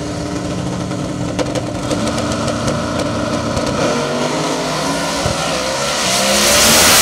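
A race car engine roars close by at a dusk-to-dawn shootout event, holding a loud steady drone that swells louder toward the end.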